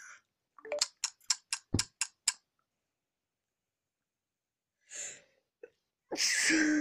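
A sharp sneeze bursts out near the end, following a quick series of clicking ticks and a brief gasp-like breath, with near silence in between.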